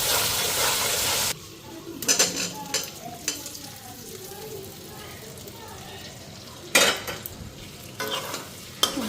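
Potatoes and soya chunks dropped into hot spiced oil, starting with a loud hiss of frying and then settling into a steady sizzle broken by scraping stirs and clattering bursts, with background voices at times.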